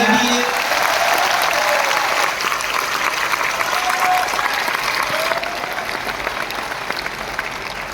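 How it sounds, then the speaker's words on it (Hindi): An audience at an RCM Day company event in Bhilwara applauds continuously, dense steady clapping from many hands that eases slightly toward the end, with faint voices mixed in. "उनके लिए एक तालियां रिकॉर्ड कर लें अपन"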